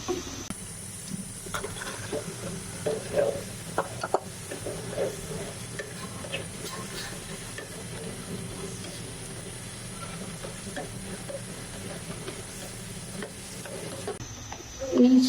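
Flat beans tossed into a hot pan with vegetables for a Bengali mustard curry with shrimp, a steady soft sizzle of frying with scraping stirring strokes throughout, fairly quiet and close.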